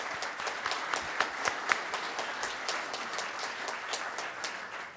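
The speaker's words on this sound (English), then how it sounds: "If you welcome them with a round of applause." A room of Rotary Club of Tulsa meeting members gives a round of applause to welcome guests, many hands clapping steadily at a moderate distance for about five seconds, fairly soft overall.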